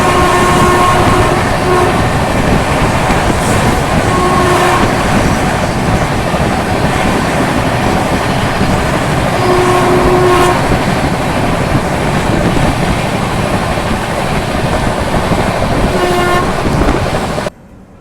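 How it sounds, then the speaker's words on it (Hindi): Shri Shakti AC Express passenger train running through Sonipat station without stopping: a loud, steady rumble and rush of rolling stock, with repeated short horn toots and faint rail clatter throughout. "देखो अब स्किप सोनीपत को कर रही है हमारी श्री शक्ति एसी एक्सप्रेस।"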